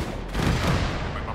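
Rocket fire and explosions in the military shooter game Arma 3, a dense, rumbling burst of blasts and gunfire that swells loud for over a second and then holds steady.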